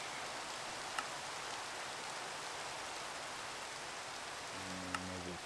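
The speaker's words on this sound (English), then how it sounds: "let me turn the rain off." Steady rain falling in a video game, a soft even hiss of raindrops on surfaces continuing throughout at a low level, with a couple of faint clicks and a brief low tone near the end.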